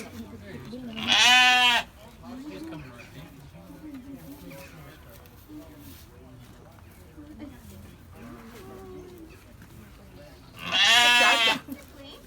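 Two loud, drawn-out bleats from a sheep ring out close by at Nazareth Village in Israel, separated by a long stretch of quieter background and low talking.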